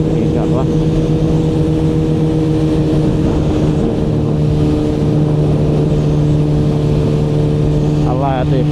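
Motorcycles idling together at a beach gathering of riders, including a Suzuki, giving a loud, steady engine drone with a low hum throughout, while someone talks over it in Arabic.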